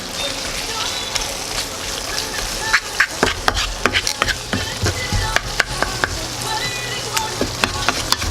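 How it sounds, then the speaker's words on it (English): Spanish scrambled tofu with melting cheese sizzles steadily in a frying pan while a utensil scrapes and clacks against it in irregular close knocks, with quiet talk at times. "So I'll start mixing it about a little bit until I see the cheese is totally melted."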